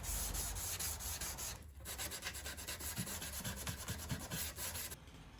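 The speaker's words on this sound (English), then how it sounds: "just standard green kitchen scourer was perfect to sand the profile of the moulding." A green kitchen scourer rubs back and forth along the profile of a wooden dresser moulding, making steady, close scratchy strokes in a rhythmic sanding pattern, with one brief pause.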